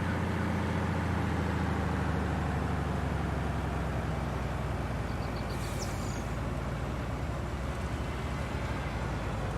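A low, steady rumble of heavy lorry engines droning continuously as they roll past, with broadband road noise and no talking.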